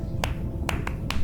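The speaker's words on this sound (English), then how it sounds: "Sperm whales make clicks in sort of rhythmic patterns that we call codas." Four sharp broadband sperm whale clicks in a 1+1+3 coda pattern, evenly spaced and distinct over a steady low rumble, underwater.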